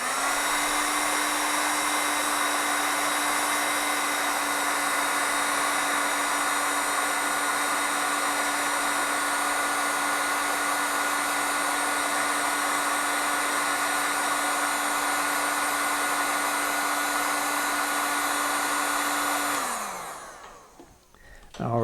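A heat gun blows steadily for about twenty seconds while shrinking heat shrink tubing over a wiring harness for a G-Body car, a loud continuous whirring hiss that cuts off abruptly at the end.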